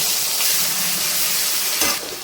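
Dry red chillies, whole cumin and bay leaves sizzle hard in hot mustard oil in a wok for a Bengali ridge gourd and prawn dish, a loud steady hiss with a brief thump near the end.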